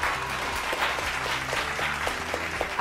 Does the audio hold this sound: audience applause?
yes